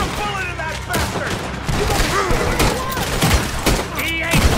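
Gunfire in Red Dead Redemption 2, repeated loud shots cracking in quick succession amid a chaotic gunfight, with voices and other game sounds mixed in.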